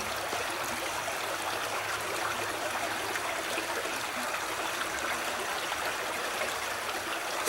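Hay Creek flows and trickles past grasses hung with small ice balls in early winter, a close, steady wash of running water with no voices.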